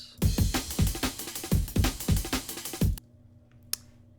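A chopped drum break sample in electronic music production, its punchy kicks and snares hitting in a busy syncopated loop for about three seconds before cutting to near silence with one faint click.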